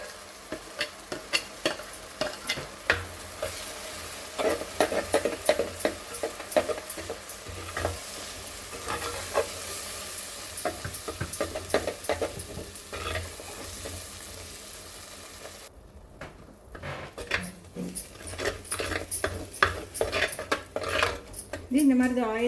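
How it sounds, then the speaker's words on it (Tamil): Masala for a Roopchand fish curry fries in oil while a metal spoon scrapes and clinks against the pan over and over. The stirring is busy and rhythmic over a steady sizzle, with a brief pause partway through. "அவ்வளோ நேரம் கொஞ்சம் பச்சை வாசனை போகிற வரைக்கும் ஃப்ரை பண்ணுவோம்"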